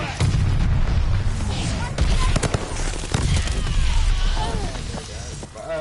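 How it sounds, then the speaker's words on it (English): Mortar explosions in Call of Duty: Vanguard, with repeated heavy booms and bursts of gunfire from the battlefield, loud and close, under excited voices talking over the action. "there's mortars going everywhere"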